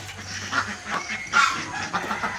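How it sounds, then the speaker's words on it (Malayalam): White ducks and call ducks returning to a farm let out several short, nasal quacks close by, scattered and uneven over a quiet outdoor background. "നല്ല ഡിസിപ്ലിനുള്ള ജീവികളാണ് താറാവ്."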